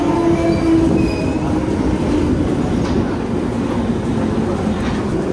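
Inside a moving London train with no air conditioning, a steady loud rumble runs throughout, with wheel squeal and faint rhythmic clatter early on and light background voices.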